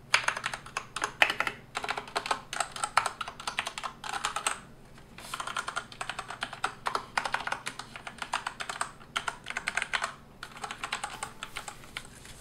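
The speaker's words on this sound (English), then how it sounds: "I'll let you guys hear what the Cherry MX Brown key switches sound like." Typing on a Max Keyboard Durandal G1NL mechanical gaming keyboard with Cherry MX Brown switches, rapid close clacking in bursts separated by brief pauses, quiet and alone.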